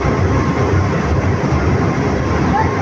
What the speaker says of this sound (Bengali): মা দেখো কত জোরে ট্রেন যাচ্ছে